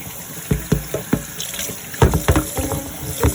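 Food being drained at a kitchen sink, with short watery splashes and trickles arriving in uneven bursts, close and fairly clear with no talking.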